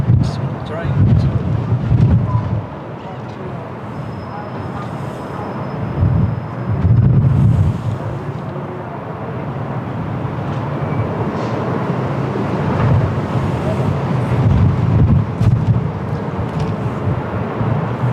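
Strong gusty wind buffets an outdoor microphone at Lisbon Airport, producing a loud, constant low roar that surges and eases in repeated gusts, with no clear voices.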